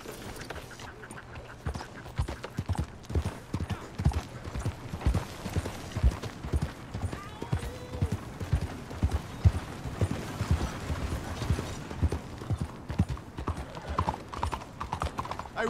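Horse hooves clip-clopping in the Red Dead Redemption 2 video game, a regular walking rhythm of close, distinct hoof strikes on the ground lasting the whole stretch, with light mechanical creaks mixed in.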